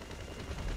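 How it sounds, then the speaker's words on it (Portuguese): Gunfire in the video game GTA V, a low rumbling burst of shots that builds louder toward the end of a short moment, with no talk over it. "Dei uns tiros"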